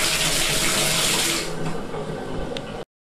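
Hot water gushes steadily from an apartment outlet tap at full temperature, a loud continuous splash that softens partway through before cutting off abruptly.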